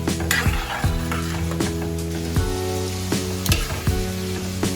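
Gooseberries (amla) frying in oil for pickle, giving a loud continuous sizzle with regular spoon strikes against the pan about every three-quarters of a second and a ringing metallic tone.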